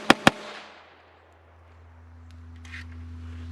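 Two sharp, loud shots from a Glock G44 .22 rimfire pistol firing CCI 40 grain rounds outdoors, in quick succession at the start, followed by a low steady hum and faint background sounds.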